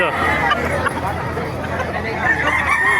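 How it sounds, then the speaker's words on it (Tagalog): Chickens clucking and crowing amid a busy crowd at a market in Bocaue, Philippines, with people talking loudly nearby throughout. "Yun, napakagandang manok Henny na white gold."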